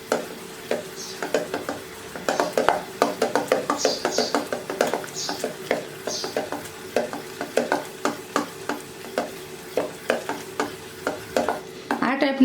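A spoon stirs frothy khaman batter in a bowl with rapid, rhythmic wet clicks and taps against the sides, close and continuous for several seconds.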